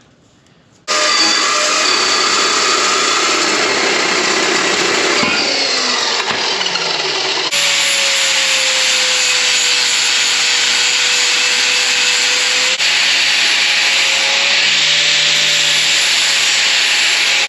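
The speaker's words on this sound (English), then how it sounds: "I'm going to cut off a 30-inch piece of the 2x4 rectangular" A power saw cuts through a 30-inch length of 2x4 rectangular steel tubing, a loud continuous grinding whine that starts abruptly and holds steady, with the pitch dipping and shifting as the blade bites, no speech.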